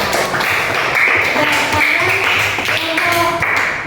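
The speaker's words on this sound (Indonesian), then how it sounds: "Tepuk tangannya buat kelompok A." Audience applause for group A at a classroom coaching session, steady dense clapping filling the whole stretch, fairly loud and close, with faint voices and tones mixed underneath.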